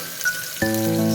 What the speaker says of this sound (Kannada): ಇದೊಂದು ಸ್ವಲ್ಪ ಫ್ರೈ ಆಗಲಿ, ಗೋಲ್ಡನ್ ಫ್ರೈ